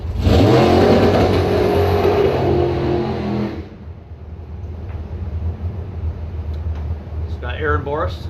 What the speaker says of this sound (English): Aaron Boris burning out there first